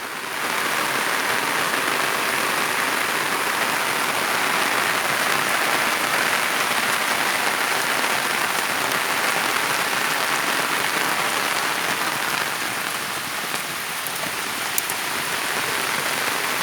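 Heavy rain pours steadily over a garden for a sustained stretch, a dense, even hiss of drops on surfaces with no talk.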